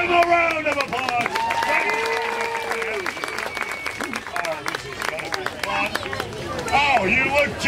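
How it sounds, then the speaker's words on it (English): Audience applause at a Sun Prairie circus show rises steadily under a loudspeaker-style voice and cheering, the clapping dense and close with whoops and crowd noise on top. "Give them a round of applause"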